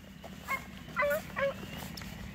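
Hunting hounds on a coyote trail give a few short, high whimpers and yips, moderately near, over a steady low outdoor background.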